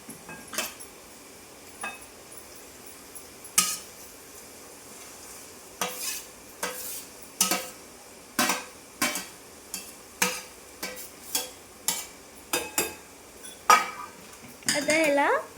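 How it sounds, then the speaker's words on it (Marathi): Spinach bhaji being stirred and mixed in a pan: repeated sharp spoon scrapes and clinks against the metal, roughly one or two a second, over a faint sizzle. "आता ह्याला मिक्स करून घ्यायचं आहे"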